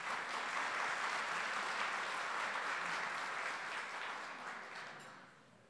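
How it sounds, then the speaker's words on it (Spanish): Audience applause at a university accountability event, a steady broadband wash of clapping that holds evenly for several seconds, then tapers off toward the end. "Un aplauso, por favor."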